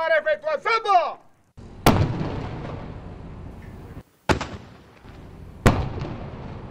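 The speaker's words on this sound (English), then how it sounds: "a 21-gun salute for Fidel Castro" Cannon blasts of a 21-gun salute at a memorial for Fidel Castro in Havana, three sharp booming reports spaced a couple of seconds apart, each trailing off in a long echo, after a brief burst of talk.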